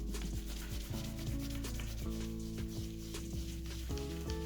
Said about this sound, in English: find your other leaf, and rub on top of that one.